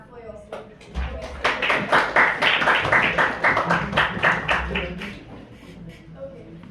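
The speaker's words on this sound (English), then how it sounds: "Can you all please clap for yourself?" Audience clapping at an indoor business seminar session, a burst of many hands that swells over about four seconds, then thins out and fades to scattered claps.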